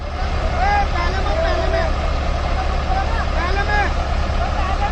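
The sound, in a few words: Swaraj and Mahindra tractors running in low first gear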